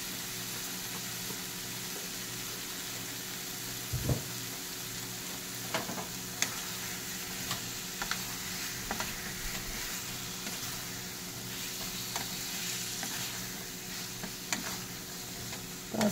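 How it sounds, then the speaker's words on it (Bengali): Potatoes fry with ground spices for aloo dum in a steady, faint sizzle, with occasional soft scrapes and taps of a spatula scattered over the stretch and no voices. "তারপর একটু ভাজা ভাজা করে নেওয়া"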